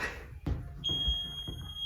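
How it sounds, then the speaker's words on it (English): A high, thin electronic tone sounds and holds steadily through the second half, over low thuds and room noise. "Ignore that beep."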